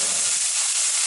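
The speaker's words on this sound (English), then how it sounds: "you start off with browning your hamburger" Hamburger meat browning in a hot pan for goulash, a steady loud sizzling hiss throughout, close up and alone.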